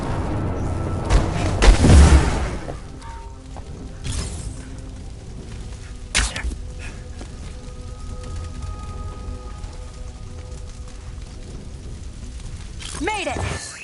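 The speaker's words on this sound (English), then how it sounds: "Sounds like gunfire in the forest." Scattered gunshots and sharp cracks ring out at varying distances in a forest in the video game Marvel's Avengers, amid a busy outdoor soundscape, with a louder burst early on and sporadic shots after.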